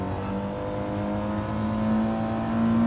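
A race car engine in Gran Turismo Sport holds a steady drone and climbs in pitch as it accelerates in third gear, loud and continuous with no talk.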